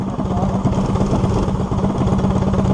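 A small engine runs close by with a loud, continuous throbbing chug, holding a fairly steady pitch and no clear rise, with no voices over it.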